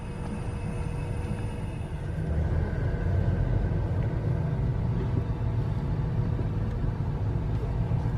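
A car drives along Interstate 75 between Michigan and Florida, giving a steady close road rumble and tyre roar with engine drone that stays even throughout, with no voices.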